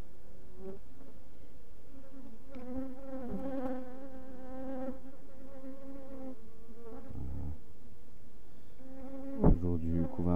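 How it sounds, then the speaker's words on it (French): Honeybees buzzing in and around a hive, with several individual wingbeat drones rising, overlapping and fading at close range, a dense layered hum with one louder pass near the end and no talk. "je crois que c'est juste une abeille qui devait avoir du pollen"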